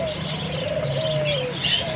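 Pet parakeets chirp and tweet in a busy cluster before feeding, thin rising calls and warbles running continuously close by while someone talks over them.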